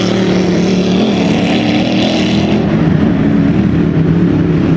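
Distant race boats circling a course on a lake during an antique boat show at Gravenhurst, giving a steady, continuous engine drone with a broad rumbling roar and no voices.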